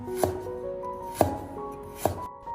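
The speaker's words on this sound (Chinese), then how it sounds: "接下来我们准备一点生姜，切成薄片。" Three separate knife strikes land on a cutting board at an unhurried pace, each a crisp thud with a brief ringing tone, as fresh ginger is cut into thin slices.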